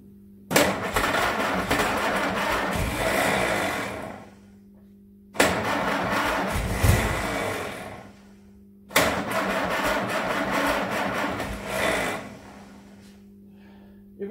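Ford GPW jeep engine after a head replacement, cranked and started three times in a row, each attempt catching into a rough running burst for a few seconds before cutting out; no talking.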